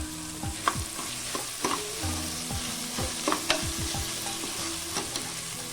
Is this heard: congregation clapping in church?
no